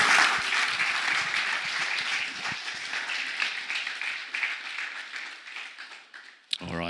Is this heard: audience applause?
yes